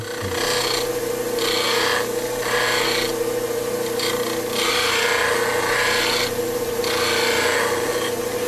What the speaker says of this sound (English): Turn the grinder on and simply ride it across it a couple times until I've refreshed my honing angle.